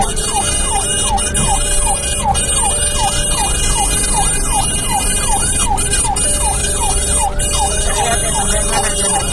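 An ambulance siren wails in a continuous rapid yelp, loud and close, stuck in traffic on a road in Ciputat, with a constant engine and road rumble underneath and no talk.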